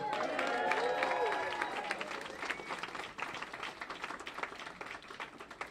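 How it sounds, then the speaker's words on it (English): A crowd at an election night victory event for a projected congressional winner breaks into applause and cheers, with voices and a whoop rising over dense clapping that continues steadily. "Give them another round of applause."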